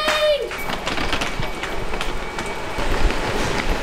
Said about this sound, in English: We're going to miss the train.